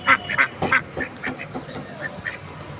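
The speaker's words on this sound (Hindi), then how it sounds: "ये बत्तखा है।" Ducks quack in a loud, choppy series of calls, several bursts close together and then a few more spaced out, nearby and clear.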